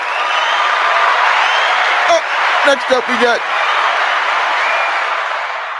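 A live audience applauds in a steady, broadband wash of clapping for Jarman Home Solutions at a talk-show taping, with a few brief vocal bursts and a spoken line partway through.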